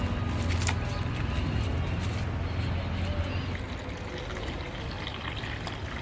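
Water is poured over chopped onion pieces and marigold cuttings in a container, a steady gushing fill lasting several seconds, with a voice speaking over part of it.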